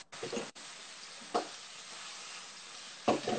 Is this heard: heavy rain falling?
no